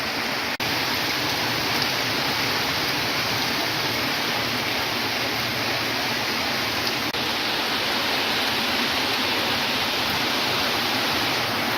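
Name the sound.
heavy rain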